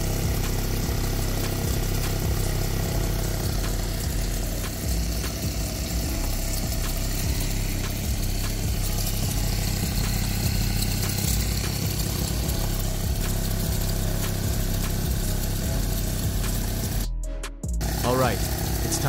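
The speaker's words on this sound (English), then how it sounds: "Time to power down the motor." A Tri-Force Extreme pulse motor runs with a steady, close humming drone and strong low harmonics for most of the stretch, cutting off abruptly near the end.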